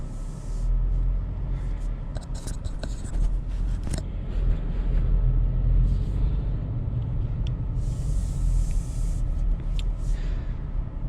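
A Subaru Outback Wilderness pulls away from a parking spot, heard from inside as a steady low engine and road rumble with faint hissy textures and small knocks.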